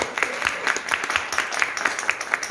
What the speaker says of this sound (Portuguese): Aplausos, gente.